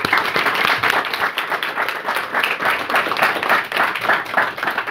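Audience applause at a live talk event welcoming an astrologer guest: dense, sustained clapping from a crowd, steady and fairly loud throughout with no voices over it.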